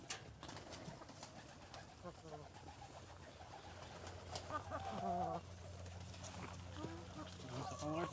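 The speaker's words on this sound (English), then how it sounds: "the pigeons are all flying" Pigeons cooing and fluttering around a temple at an animal sanctuary, soft low coos and wing flaps mixed with murmuring voices and outdoor background noise.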